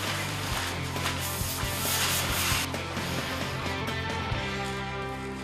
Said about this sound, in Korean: 자, 그런 다음 본격적인 도배를 시작합니다. 바로 요 초배지 작업인데요.